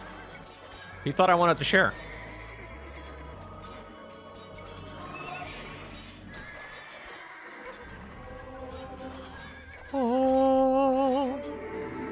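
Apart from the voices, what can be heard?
horses neighing in the video game Age of Empires 2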